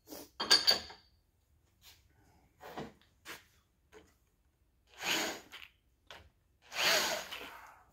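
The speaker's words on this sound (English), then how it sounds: "Hit it with a file." A hand file scrapes across a Chevy 283 connecting rod cap in a handful of irregular strokes, some short and some longer and harsher, close up in a quiet shop with no talk.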